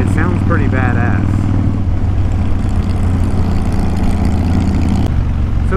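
Volkswagen engine of a custom-built trike being ridden and hand-shifted, a steady low droning rumble close by throughout, with a person talking over it at the start.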